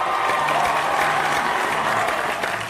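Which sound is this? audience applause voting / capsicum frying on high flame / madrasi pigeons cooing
audience applause voting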